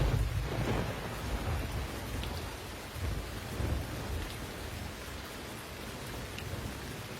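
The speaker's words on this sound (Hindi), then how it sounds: "बारिश शुरू हो गई है" Rain pours steadily over a surface, with deep rolls of thunder rumbling in low bursts near the start and again midway, filling the scene without voices.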